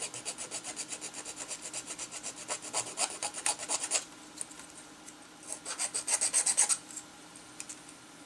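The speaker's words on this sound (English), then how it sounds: "filing it down like I normally do, like I'm doing on this side" Hand file rasping a plastic Revell Tie Fighter snap kit part in bursts of rapid back-and-forth strokes, close and fairly quiet, with a pause midway before a second quicker run.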